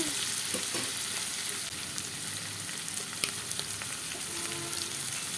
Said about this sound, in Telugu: కూరకి సరిపోను అల్లం వెల్లుల్లి పేస్ట్ వేస్తున్నానండి